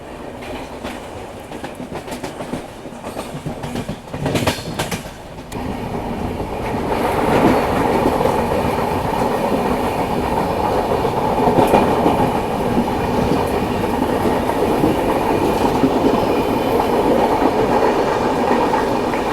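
A Konkan Railway train runs through monsoon country, its wheels keeping up a steady, loud clickety-clack over the rail joints with continuous rumble and rushing air, close and unbroken for most of the stretch.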